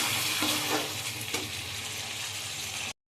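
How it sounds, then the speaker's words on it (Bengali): Water just poured into a meat curry sizzles steadily and loudly in the pot, a close, continuous hiss as it comes up toward a boil, with no talking. "তো আমি জল দিয়ে দিয়েছি, দেখো ফুটছে"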